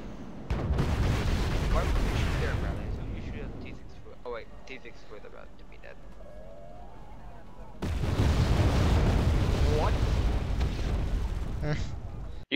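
F-117 Nighthawk bombs exploding in the video game WarGame AB, a loud, rumbling barrage of blasts in two long bursts separated by a quieter lull of several seconds, with voices talking over the action.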